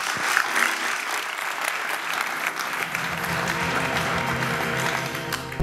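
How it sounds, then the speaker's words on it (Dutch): A studio audience at a late-night talk show bursts into sustained applause, a dense, even clapping that swells and holds steady close to the microphone. "Even een applaus."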